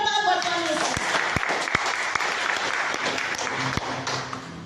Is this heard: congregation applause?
yes